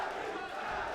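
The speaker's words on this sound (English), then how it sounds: "the crowd are chanting for Sami" A dense, roaring arena crowd chants for a fighter at the UKMMA 3 mixed martial arts event, a constant wall of voices without clear breaks.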